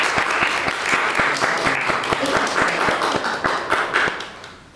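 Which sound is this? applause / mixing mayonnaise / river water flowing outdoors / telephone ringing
applause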